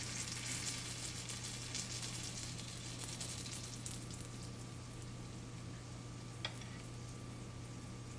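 A paratha brushed with ghee sizzles steadily in a hot pan, a continuous crackling fry that stays even throughout with one small sharp pop near the end.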